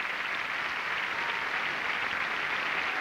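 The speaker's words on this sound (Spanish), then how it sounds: "¡Fuerte el aplauso!" A theatre audience applauds the cast of the stage play "Los Chicos de la Fiesta" in a steady, dense wash of clapping that holds at an even loudness throughout, with no voices standing out.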